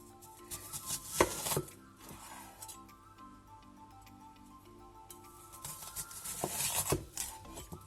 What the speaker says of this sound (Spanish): vamos a cortar nuestra cebolla de aproximadamente 1 centímetro de grosor